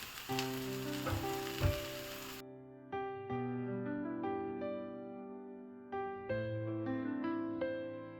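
A tempering of spices sizzles loudly and steadily for about two seconds as it is stirred into a Kolar-style cluster bean curry, then cuts out abruptly.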